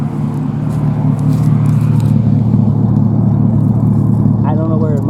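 A 2001 GMC Sierra engine idles with a rough, rumbling drone, its exhaust escaping through a rusted, holed muffler; the sound stays loud and steady throughout, with voices and brief noises over it.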